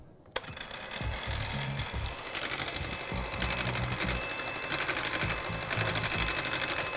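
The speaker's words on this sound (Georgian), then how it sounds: "კარგად ავთქუფავ, სანამ კრემის კონსისტენციას არ მიიღებს." An electric mixer whips 400 ml of high-fat heavy cream for a strawberry dessert cream, a steady, close motor whine that runs continuously after a brief start-up.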